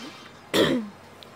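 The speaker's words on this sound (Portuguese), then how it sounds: "Desculpa pela tosse aí" A single rough, throaty cough erupts once, brief and close, against a quiet background.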